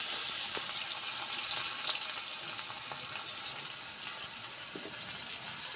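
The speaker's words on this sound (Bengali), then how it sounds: "এখন পেঁয়াজটা একটু ভাজে নেব" Chopped onions frying in oil in a pan, in a kitchen where rui fish is being cooked, giving a steady, even sizzling hiss that runs unbroken throughout with no voices.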